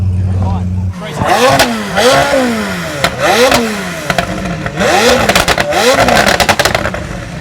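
A loud Lamborghini Aventador SVJ engine revs hard in repeated rising bursts, echoing in a tunnel, with crackling pops between the surges.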